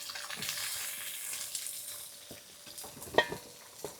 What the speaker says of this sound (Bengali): ঘাটকল দিয়ে একটু নাড়াচাড়া করে নিলাম